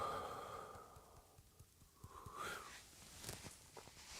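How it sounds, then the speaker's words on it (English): Slow breathing in and out, with a long audible exhale, a pause, then another breath and soft sigh, close and quiet with no talking. "Inhale. Exhale."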